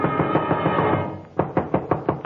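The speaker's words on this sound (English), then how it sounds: "somebody was knocking on my door" Knocking on a door in an old-time radio detective drama: a burst of several sharp, evenly spaced raps comes through after a muffled, rumbling stretch, fairly close and distinct with no talking.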